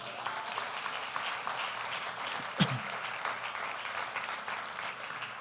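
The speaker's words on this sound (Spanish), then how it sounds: "dele un fuerte aplauso a Él" Congregation at a church service applauding, a steady wash of many hands clapping at moderate volume, with one sharp louder clap standing out midway through.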